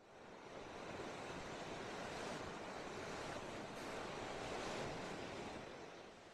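Ocean waves break on the shoreline at Flat Rock, Ballina, as a steady, full wash of surf that swells and fades softly, with some wind noise on the microphone and no voices.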